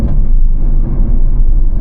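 Honda petrol car engine running while driving on a light-traffic road in Langkawi, heard from inside the cabin as a steady loud low rumble and road drone throughout.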